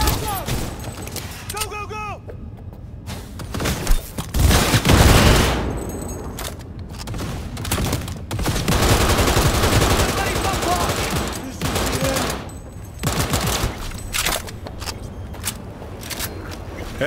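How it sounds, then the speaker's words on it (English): Gunfire in the video game Cyberpunk 2077: bursts of automatic and single shots crackle loudly through a combat scene, with brief pauses between volleys, mixed with game sound effects and character voices. "opening fire!"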